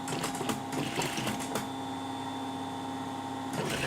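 A sewing machine runs steadily while stitching a round neckline placket, its close motor hum and rapid needle clatter continuous for the whole stretch.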